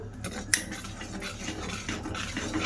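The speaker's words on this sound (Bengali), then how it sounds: "দিয়ে ভালো করে মিশিয়ে নেব।" A spoon stirs green food colouring into aam panna, a raw mango drink, in a bowl or glass, giving a steady soft swishing rub with one brief metallic clink near the start. It sounds close and quiet, with no talking.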